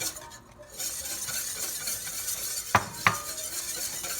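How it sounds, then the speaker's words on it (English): A flour mixture is stirred into a reduced seafood sauce in a pan: a spoon scrapes steadily against the metal over a low sizzle, with two sharp clinks near the end and no voices. "I'm going to go ahead and add my flour mixture."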